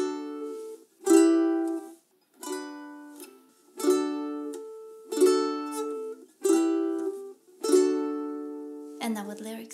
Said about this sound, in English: you will need to repeat it twice with just one down strum on each chord